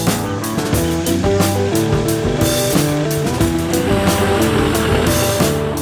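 Off-road vehicle labours along a rough, iron-rich sandy track near a waterfall, its engine a loud, continuous drone that shifts pitch as it climbs and bumps over uneven ground, with no talk.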